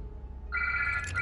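A phone in Marvel's Spider-Man Remastered starts ringing partway through with a bright electronic trill over a low rumbling background.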